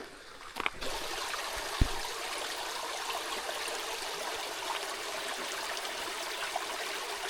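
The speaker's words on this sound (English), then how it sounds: "Nice little babbling brook." A small babbling brook on a back-country creek hike near Lost Creek Falls rushes and trickles in a steady, full wash of water, close by, with a couple of sharp knocks early on.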